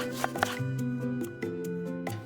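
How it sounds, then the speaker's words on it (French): Peeled carrots are sliced into rounds with a knife on a board: a handful of sharp, close chopping taps in an uneven rhythm, quiet and with no voices. "Éplucher et tailler les carottes en rondelles."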